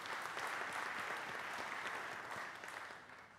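A scholarship ceremony audience fills the room with steady applause for a recipient, which fades slightly toward the end.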